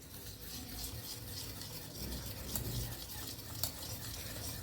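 Warm milk being stirred into Oreo cake batter in a bowl, a soft, steady swishing and scraping with a few faint clicks of the utensil, quiet and close throughout.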